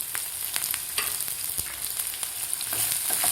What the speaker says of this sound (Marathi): आता व्यवस्थित आपल्याला हे फ्राय करून घ्यायचे आहेत, लसूण, आलं आणि कांदा.